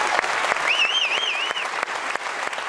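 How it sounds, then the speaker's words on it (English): A church congregation clapping steadily, with a brief whistle cutting through the applause. "the room erupting in applause"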